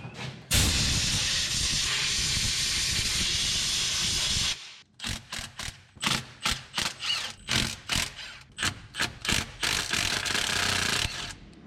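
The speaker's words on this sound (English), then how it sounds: "get some compressed air and blow out around these spark plugs so you don't get any dirt in our cylinders" Compressed air blasts around the spark plugs of a 1947 Ford coupe's flathead V8 engine, first as one loud continuous hiss for about four seconds, then as a rapid series of short, sharp bursts, close up with no talking.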